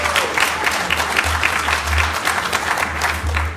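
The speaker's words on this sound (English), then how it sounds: "Earned applause." Audience applause at an Indiana Republican gubernatorial primary debate, a steady wash of clapping lasting a few seconds with a low hum beneath, moderately loud and without speech over it.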